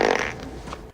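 Short, brassy fart sound effect from a 1997 movie, a single close, loud blast that trails off within a second.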